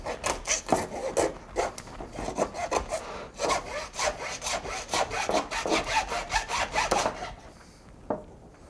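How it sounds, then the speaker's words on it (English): A hacksaw cuts through an animal's backbone, producing a steady run of rhythmic rasping strokes for about seven seconds, close and fairly loud. The sawing then stops, and a single faint knock follows. "we're using the hacksaw to show you it can be done with household tools"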